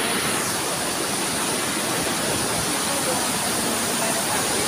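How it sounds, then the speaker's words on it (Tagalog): A strong river current rushes past in a loud, steady, broadband roar, close and continuous, like a small waterfall or fast stream, with no break in the flow. "Yan ang lakas ng agos ng tubig."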